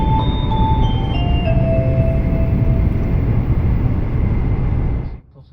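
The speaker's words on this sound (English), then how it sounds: "that jingle means we are approaching Hakata" A Shinkansen onboard chime plays a short melodic jingle announcing the approach to Hakata station, heard over the steady loud rumble of the high-speed train interior, then cutting off near the end.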